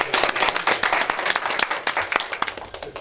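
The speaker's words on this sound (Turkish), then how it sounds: "Hadi bir alkışlayalım." Audience applause at a village folk theatre play during a winter yaren gathering in Büyükyakallı, Turkey: dense, steady clapping from a crowd for about three seconds, with a few voices faintly mixed in.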